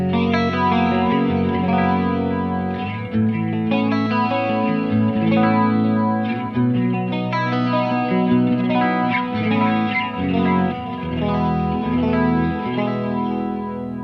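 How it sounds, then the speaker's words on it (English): Electric guitar on a Driftwood Purple Nightmare amp, run through a Julia chorus and a Flashback 2 delay, plays sustained chords and melodic lines, loud and shimmering with a wide chorus wash and echoing repeats, with no talking. "Let me turn on the Julia chorus and the flashback 2 delay pedal and see what it sounds like"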